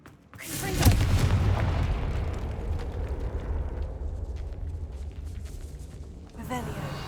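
A Confringo fire spell detonates in the Hogwarts Legacy video game: a sudden heavy boom at the start, then a long rumbling roar that slowly fades, with a fresh burst of crackle near the end.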